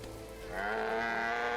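A sheep in the farming game My Time at Portia gives one soft wavering bleat that swells and holds, fairly quiet and alone.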